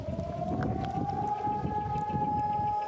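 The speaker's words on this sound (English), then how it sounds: "On Monday morning, a siren sounded throughout the country." A civil defense siren sounds across Israel on Holocaust Remembrance Day, one sustained, slowly rising wail heard from a distance over a low rumble of street and ambient noise, with no voices.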